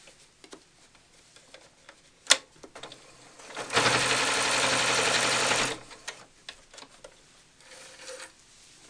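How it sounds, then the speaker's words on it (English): A sewing machine stitches a cloth doll's top knot to the center of the head, close to the edge. It makes one sustained burst of a couple of seconds, loud and close, with scattered handling clicks before and after. "I'm going to stitch it upside down, very close to the edge in the center of the head"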